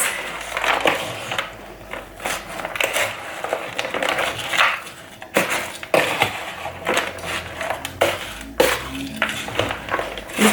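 Seasoning mix being stirred into food for an air fryer: a close, busy run of scraping, rustling and clattering against a bowl, irregular and loud throughout, with no voices.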